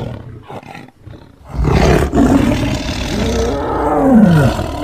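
A large dinosaur lets out a long, deep, growling roar in open northern grasslands, rising and bending in pitch over several seconds, loud and close after a brief quiet start.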